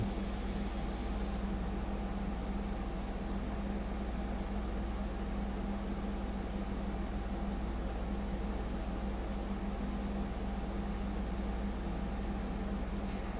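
An Extreme Patriot airbrush sprays paint in a continuous soft hiss that stays steady and even throughout, with a low hum beneath and no talk.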